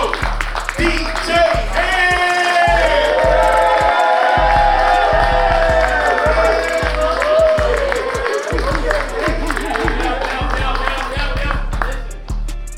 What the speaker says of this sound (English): Put your hands together for the host of this show